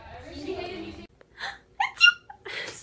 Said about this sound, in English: we all know you don't sneeze like that!